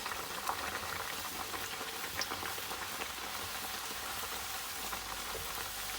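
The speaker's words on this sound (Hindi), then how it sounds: "इसको भी मैं फ्राई करूँगी।" A puri fries in hot oil for an aloo puri breakfast. A dense, even bubbling sizzle holds steady throughout at moderate loudness, with a few faint pops and no voices.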